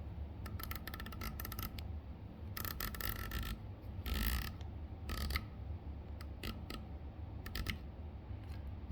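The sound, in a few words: clicking the turret on a ZCO rifle scope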